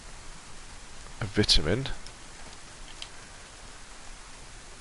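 Steady rain hissing in the DayZ survival game, a soft continuous wash of drops under a brief spoken phrase.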